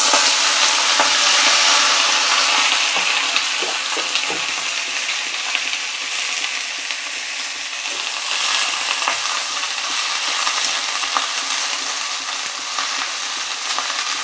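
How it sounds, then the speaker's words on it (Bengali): Spring onion leaves sizzle steadily in a hot pan with oil, a loud continuous frying hiss broken by small scraping clicks as the greens are stirred, close and without talk. "এই পেঁয়াজের পাতাগুলো ভাজতে থাকুক, যতক্ষণ নেড়েই যাব।"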